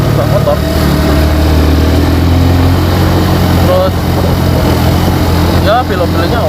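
A Suzuki Thunder 125 motorcycle engine runs steadily while being ridden, with a low, continuous hum and road noise under someone talking throughout.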